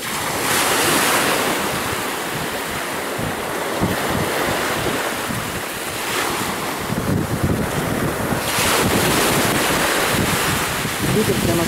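Strong wind roars and buffets the microphone continuously, mixed with the rush of waves on the Gulf of Mexico off Florida, loud and close throughout.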